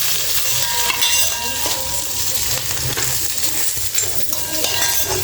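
Spice powder roasts in hot oil in a pan, a constant close sizzle with occasional scraping and light clinks of a utensil against the metal.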